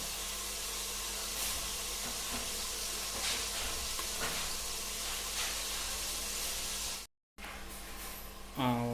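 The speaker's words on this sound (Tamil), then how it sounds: "நல்லா வதங்கணும். ஒரு 2 நிமிஷம் அப்படியே விட்டோம்னா நல்லா வதங்கிடும்." Vegetables sautéing in a pan for Andhra-style veg kuruma give a steady, close hiss and sizzle that runs unbroken, with a short dropout near the end and a brief clatter just after.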